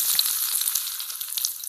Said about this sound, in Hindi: पहले हम प्याज को फ्राई कर लेंगे